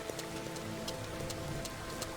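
Steady rain falling in the farming video game Farmer's Dynasty, a continuous even hiss with faint scattered droplet ticks, with no voices.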